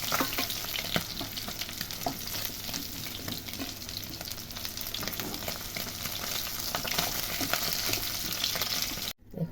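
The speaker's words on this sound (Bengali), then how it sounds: "মাছগুলো ভাজা হয়ে গেছে। এবার আমি এগুলোকে এক এক করে তুলে নিচ্ছি।" Fried fyasha fish lifted piece by piece from sizzling oil, a dense close hiss and crackle broken by scraping, clinking utensil knocks, ending in a brief sharp dropout; no voices.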